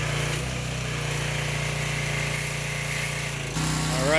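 Steady high-pitched engine drone of a Craftsman lawn mower with a Briggs & Stratton engine under a pressure washer spray, loud and continuous, with a brief shift near the end.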